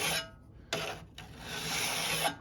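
A file on a scraper sharpening tool rasps across steel in close, loud strokes. Two bursts of gritty scraping are split by a short pause, and no voice is heard.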